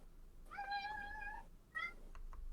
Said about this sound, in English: the vendor meows like the cat behind me right now